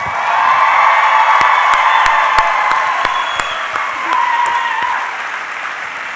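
Audience at a Salt Lake Comic Con 2014 panel with Barbara Eden and Bill Daily applauding and cheering loudly, a dense steady roar of clapping with whoops cutting through, easing slightly toward the end.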